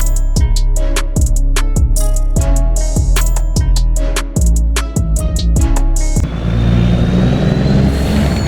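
A truck engine in Farming Simulator 25 loud and close, with repeated rev-and-shift cycles roughly every half second, each pitch sweep dropping back before climbing again, then settling into a steadier rumble near the end.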